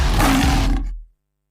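A single loud, deep lion roar lasting about a second, then it cuts off abruptly to silence.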